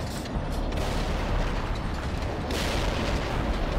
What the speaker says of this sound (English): Delivering a rain of shells.